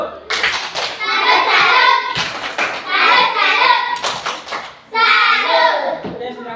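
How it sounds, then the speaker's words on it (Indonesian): Classroom students in Indonesia clap together in rhythmic salute-style bursts, sharp hand claps mixed with children's voices and a few taps, loud and close in several waves. "mari kita berikan aplaus kepada teman-teman kelompok 3 dengan tepuk salut"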